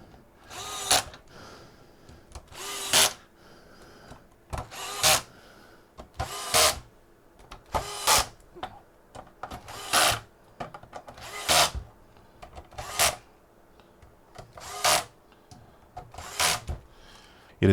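A power driver runs screws into the plastic housing of a 1984–89 Corvette digital cluster logic board, giving about a dozen short whirring bursts at a regular pace, close and clear, with quiet gaps between them.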